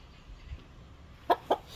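A five-to-six-month-old Aseel stag, a young rooster, gives two short, fairly close clucks about a fifth of a second apart over a quiet background.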